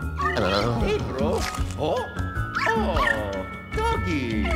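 Cartoonish dog barks and yips from the video game Luigi's Mansion 3, several quick pitched woofs and whimpers in a row, loud and close, mixed with game music or voices.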